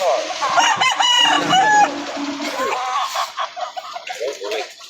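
Chickens and a rooster at a roadside poultry market near the Victoria boundary arch crow loudly up close, then cluck in short bursts, with people talking nearby.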